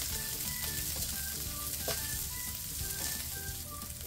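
Chopped onion sautés with garlic in oil left from frying potatoes and carrots, giving a steady close sizzle with the occasional scrape of stirring in the pan.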